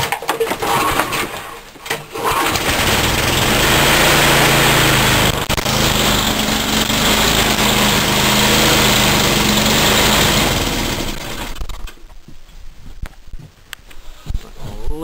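A small snowblower engine with a carburetor mixture screw is started and revs into a loud, steady buzzing roar near at hand, then cuts out into quieter sputtering near the end.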